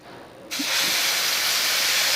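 Ground mustard paste for a silver fish curry goes into a hot pan over a lowered gas flame, setting off a sudden loud, steady sizzle that continues unbroken.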